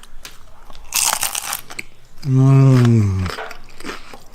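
A crunchy taco bitten and chewed up close, with a brief burst of brittle crackling crunch; a man then lets out a long, drawn-out appreciative voiced sound, followed by softer chewing.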